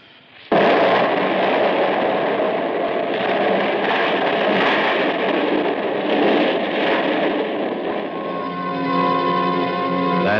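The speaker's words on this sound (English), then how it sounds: "That explosion had ripped Tony's spaceship open, blew me out through a rip in the wall" A dynamite blast in a classic science-fiction radio drama erupts suddenly and roars as a loud, sustained rumbling wash for several seconds, then gives way to a tonal, music-like ending.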